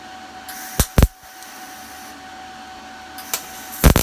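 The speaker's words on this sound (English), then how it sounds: "sorry for the noisy fan, it just gets hot in here" A noisy cooling fan runs in a workshop where an RC Jeep Wrangler rock crawler is being welded, giving a steady whirring hum with a few sharp clicks and knocks over it.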